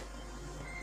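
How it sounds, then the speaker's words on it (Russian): A Canon IR copier drawing a sheet of paper from its manual feed tray after a clutch replacement, a brief low mechanical whir and rumble lasting under a second, close and fairly quiet. "С первого раза система, принтер потянул бумагу."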